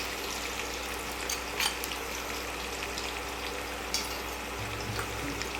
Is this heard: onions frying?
yes